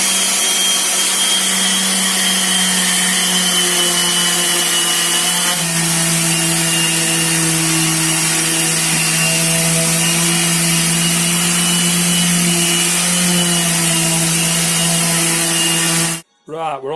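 Power sanding on a birch plywood side unit: a continuous loud abrasive whir with steady hum, shifting pitch slightly midway and cutting off abruptly near the end.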